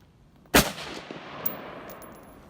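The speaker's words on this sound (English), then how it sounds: "Just take a couple more shots" A single sharp gunshot cracks at an outdoor shooting range, followed by a fading echo and a fainter second report.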